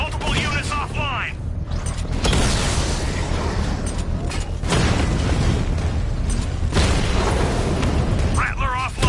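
In the Batman Arkham Knight video game, Rattler drone tanks are destroyed in heavy booming blasts over dense mechanical clanking and rumbling battle noise, with voices calling out over the din.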